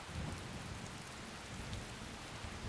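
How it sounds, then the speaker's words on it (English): Steady heavy rain hisses across surfaces in Skyrim, a dense, even wash of sound with low thunder rumbling underneath, constant and fairly close with no voices. "we'll just sit over here out of the rain"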